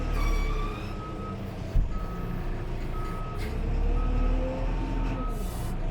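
A Kalmar DCG160-9T 36,000 lb diesel forklift backs up with its reversing alarm beeping in a steady, repeated pattern. The beeps sound loud and close over the rumble of the diesel engine, with a brief clunk partway through.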